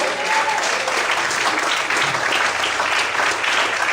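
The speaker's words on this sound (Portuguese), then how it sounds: "Levanta a sua mão, glorifica e aplauda o Senhor bem forte." A church congregation claps vigorously during a sermon, a dense, even wash of applause sustained throughout with faint voices mingled in.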